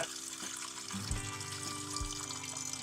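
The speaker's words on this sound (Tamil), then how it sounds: "வச்சுட்டு அதில் கொஞ்சம் தண்ணி ஊற்றிங்க." Water pours from a vessel into a cooking pot set up for steaming egg fried rice. The splashing and trickling is steady and close, with a few low clunks of the pot.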